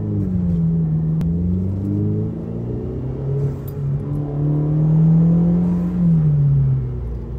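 Tuned Mercedes accelerating in race mode, its engine rumbling and rising smoothly through gears, close and fairly loud, with a steady drone and no voices.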